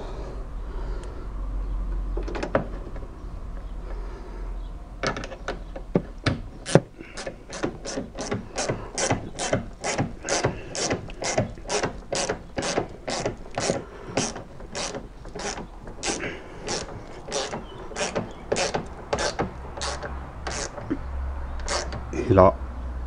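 A screwdriver ratchets as screws on a plastic car side mirror are tightened on a Peugeot 107, Citroën C1 or Toyota Aygo, making a fast, even run of close, sharp clicks after a few scattered knocks at the start.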